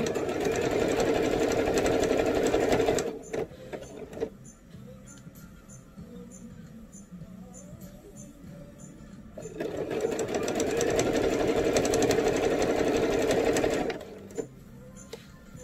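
A sewing machine hems a bell sleeve shirt made from a Simplicity 8466 pattern, running in two long, steady, loud bursts with a quieter pause between them.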